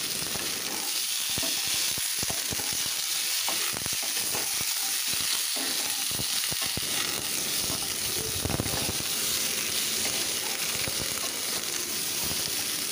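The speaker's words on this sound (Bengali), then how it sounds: "বেগুনগুলোকে এবার নাড়াচাড়া করে একসাথে ভেজে নিচ্ছি" Chopped eggplant fries in a pan with a dense, steady sizzle and hiss, broken by scattered scraping stirs up close, with no talking.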